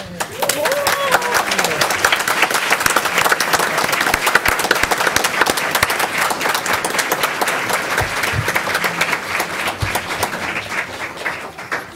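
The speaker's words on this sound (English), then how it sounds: "He deserves all that applause and more" A school board meeting audience applauds a high school state wrestling champion with long, steady, dense clapping that holds at a strong level throughout, with a few voices faintly mixed in.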